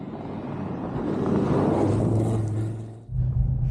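An Audi RS3 driving hard on a snow-covered rally course: a loud, steady engine roar with rumble and wind noise that builds, dips briefly near the end, then surges again.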